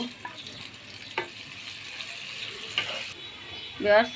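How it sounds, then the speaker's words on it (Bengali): Onions frying in a pan, a soft steady sizzle with occasional clinks and scrapes of stirring, close but fairly quiet, ending in a brief louder clatter. "এখন পেঁয়াজগুলো দিয়ে দিচ্ছি, এখন নাড়া দিব।"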